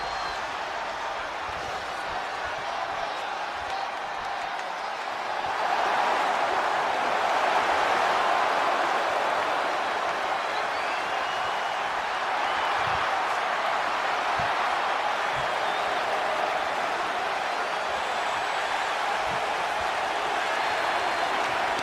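Simulated arena crowd in the WWE 2K25 wrestling game at a WrestleMania face-off between The Rock and John Cena: a steady, dense roar of cheering that swells louder after a few seconds and holds, with no talk over it.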